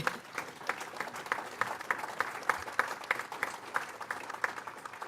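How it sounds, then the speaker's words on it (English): An audience claps at a UN General Assembly launch event for a lead-free future partnership, a moderate, fairly distant patter of applause lasting several seconds. "Yes, clap for that."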